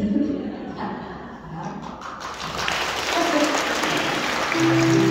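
Audience in a Catholic church concert clapping along with music, a dense wash of hands under sustained tones and faint voices, loud and continuous throughout.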